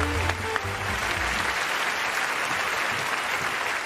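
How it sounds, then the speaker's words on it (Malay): Loud audience applause fills the hall at the Pesta Perdana 2023 awards show, a continuous roar of clapping, with a brief low musical tone fading out in the opening second. "Tepukan paling gemuruh."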